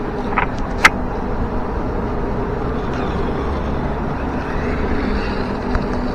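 A 1/12 scale RC car accelerates across an empty lot, giving a steady, rough whirring roar mixed with wind noise at the microphone and a couple of brief clicks.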